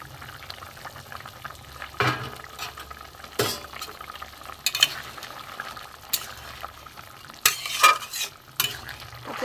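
Fried hilsa pieces going into a thin brinjal and potato curry with mustard paste. The liquid simmers and bubbles softly throughout, and the pan and spoon give several louder scrapes and clanks while the pieces go in.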